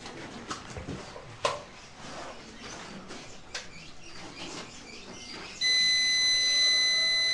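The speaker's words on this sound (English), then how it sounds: "It sounds an alarm." An overload alarm on a solar-powered home system when lights and a refrigerator run together starts partway through, a loud steady electronic tone with several pitches that takes over from quieter background rustling and clatter.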